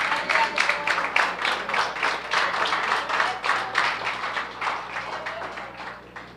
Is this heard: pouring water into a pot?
no